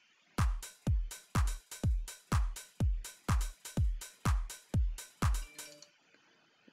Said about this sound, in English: Some drums from a new drum kit over here.